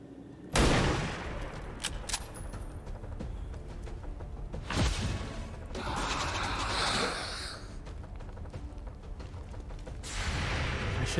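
Gunfire in the XCOM 2 video game: a sharp shot followed by bursts of weapon fire and rumbling impacts, with quieter game ambience between the loud moments.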